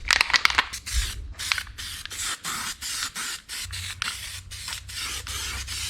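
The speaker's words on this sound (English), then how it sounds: "I'll use some of this, more of the spray adhesive on this gasket so we have a good seal" Repeated short hissing bursts of an aerosol spray adhesive can onto a gasket on an IH 1066 tractor transmission, close by, about a dozen sprays in quick succession with brief gaps between them.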